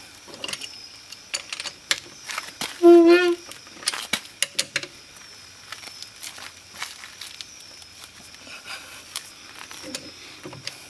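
A breaker bar and 13/16 socket loosen lug nuts on a Jeep Grand Cherokee wheel, giving scattered sharp clicks and creaks and one short loud grinding burst, while a person talks nearby.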